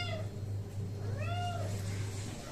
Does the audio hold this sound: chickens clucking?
no